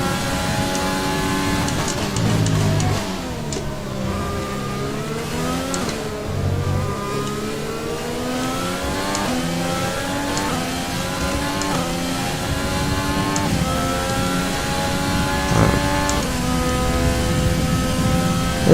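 A race car engine in a racing video game revs and accelerates through gear changes, with rising and falling pitch sweeps and a loud, continuous, close drone throughout, and no speech.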